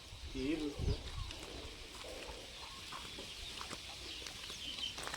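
Free-range native chickens cluck and coo softly in a poultry shed section for large birds, with one louder call near the start, under a steady background hum and some talking.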